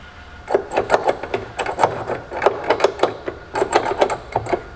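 Bolts on a Winnebago Revel side step are run in with a power tool, giving quick buzzing bursts in a rapid, uneven run, close and fairly loud, with no talking.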